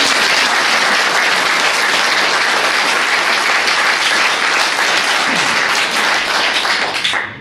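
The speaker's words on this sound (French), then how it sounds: "Bon, je propose qu'on applaudisse." A full room applauds loudly and continuously at a Légion d'Honneur award ceremony. The dense clapping stays strong for several seconds, with no voices over it, before stopping abruptly.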